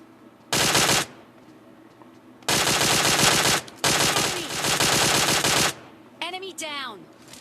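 Loud bursts of automatic gunfire in PUBG Mobile Lite, three long sustained volleys of rapid shots close by, separated by brief pauses, with a short trailing sweep of game sounds at the end.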